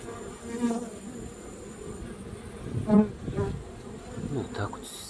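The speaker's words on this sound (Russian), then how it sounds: "Пчелки работают целый день у нас." Honeybees buzz around their hives in good weather, a steady drone of many insects with individual bees swelling past near the listener, moderately quiet and with no talk.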